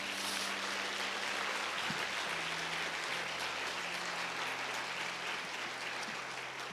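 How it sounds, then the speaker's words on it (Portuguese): A church congregation applauds the Lord Jesus, a continuous wash of many hands clapping at a moderate distance, with a low sustained tone, likely music, running underneath and the clapping steady throughout. "diga amém e aplauda ao Senhor Jesus novamente"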